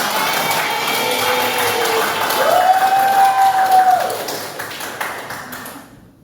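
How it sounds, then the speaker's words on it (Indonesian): Audience applause in a classroom during a teacher's lesson, broad steady clapping noise that swells midway with a brief tonal ring, then fades out toward the end. "beri tepuk tangan."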